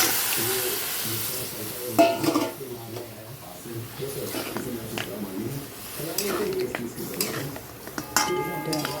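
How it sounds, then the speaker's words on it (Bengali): Mutton going into a pan with ginger-garlic paste, salt, chilli and sugar: utensil clinks and scrapes with a soft frying hiss, under steady talking throughout. "এবার এই মাটনটা দিয়ে দিচ্ছি"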